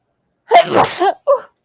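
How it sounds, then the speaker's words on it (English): A single sneeze, a sharp inhale building into a burst, followed by a short voiced sound right after, close to the listener. "I might sneeze."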